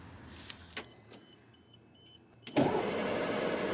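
An LMTV military truck is started up: a few clicks and soft electronic beeps from the cab, then the diesel engine cranks and catches, settling into a loud, steady idle close by.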